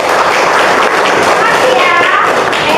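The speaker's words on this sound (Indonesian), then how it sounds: "kita kasih tepuk tangan buat kelompok 5." A class claps hands together for a student group during a lesson, a dense, steady burst of clapping with children's voices and chatter mixed throughout.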